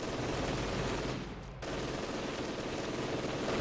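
Dense machine gun fire rattles continuously in a World War II war video game, a harsh sustained fusillade that briefly dips after about a second before resuming at full intensity, with no talking.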